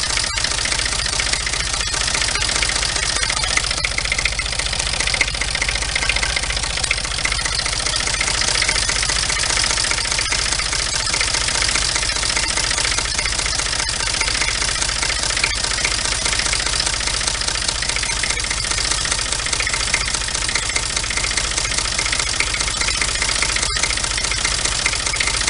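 A Renault D30 tractor engine idles steadily and smoothly with no knocking, a constant mid-pitched mechanical hum with a light rattle that holds at an even level throughout, no voices.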